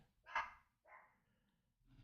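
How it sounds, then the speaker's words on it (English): A pet dog gives two short barks indoors, the first louder and sharper, the second softer, heard fairly close in an otherwise quiet room with faint background hum. "Sorry, my dog is barking."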